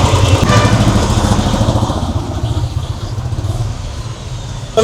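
A motorcycle engine runs close by with a loud, steady rumbling throb that eases slightly over the few seconds, with no talk over it.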